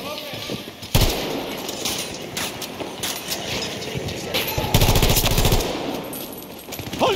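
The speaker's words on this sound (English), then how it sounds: "That's a gunfire!" Rapid machine gun bursts and heavy gunfire crackle through a Battlefield 2042 firefight, with loud booming impacts around the one- and five-second marks and continuous battle din throughout, a voice briefly audible beneath.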